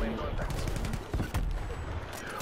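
Video game gunfire from a PPSh-41 submachine gun, rapid automatic bursts crackling under dense game noise throughout, loud and busy with overlapping shots.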